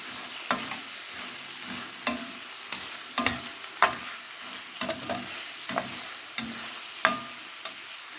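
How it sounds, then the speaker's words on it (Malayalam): Chilly chicken sauce with tomato sauce and pepper powder fries gently in a pan while a spoon stirs it, giving a low sizzle broken by a dozen or so irregular scraping taps, close up with no voices. "നല്ലതുപോലെ ഒന്ന് മിക്സ് ചെയ്തിടുക."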